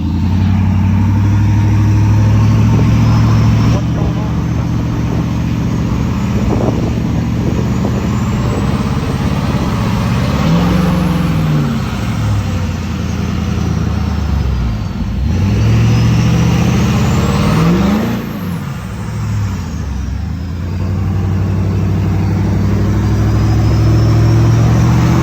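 A truck engine, an Alumiduty that previously blew up, idles loudly and steadily nearby, then rises and falls in a few swelling revs before settling back to a low drone.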